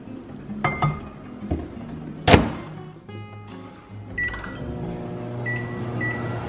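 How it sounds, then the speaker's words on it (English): Microwave oven running on high to boil water, a steady hum with a sharp clunk of the door or a clink early on, then an even drone with faint beeps and household sounds. "Microwave on high to boil about 1 minute and 30 seconds."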